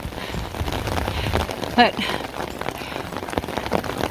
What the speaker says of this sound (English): It's just raining too dang hard.